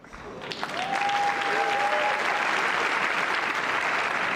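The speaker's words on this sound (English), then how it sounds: "They erupted with applause" A large TED conference audience applauds Edward Snowden, a dense, sustained wave of clapping that swells quickly and holds steady, with a brief high tone sounding early on.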